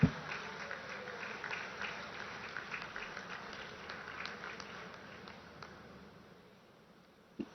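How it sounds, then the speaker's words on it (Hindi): A large crowd at a public event with the Indian Prime Minister in Deoghar, Jharkhand claps in a soft, distant patter that slowly fades, with a sharp thump at the start and another near the end. "आप सबकी तरफ से जोरदार तालियां अभिनंदन स्वरूप।"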